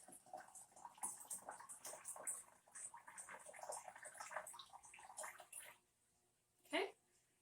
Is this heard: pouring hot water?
yes